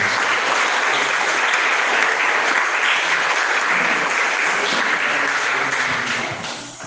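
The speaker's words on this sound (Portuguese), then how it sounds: "Salva de palmas ao nome de Jesus." Applause from a church congregation at a Wednesday evening service, dense and loud, holding steady for several seconds before fading at the end, with no talking.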